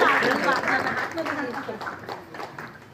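Applause from a neighborhood gathering in Haldwani welcoming a guest, clapping mixed with overlapping voices and chatter, fading somewhat toward the end.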